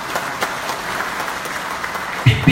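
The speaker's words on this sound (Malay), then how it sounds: "Satu tepukan untuk beliau." Applause from the audience at a Pakatan Harapan political convention in Negeri Sembilan, a steady mid-distance patter of clapping from the hall that swells briefly near the end.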